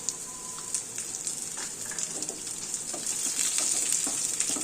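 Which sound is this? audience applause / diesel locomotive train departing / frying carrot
frying carrot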